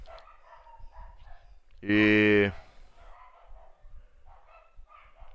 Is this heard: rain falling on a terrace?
no